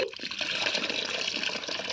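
Tamarind water pours steadily into a pan for a fish curry, a continuous, fairly loud gush lasting a couple of seconds, with no voices.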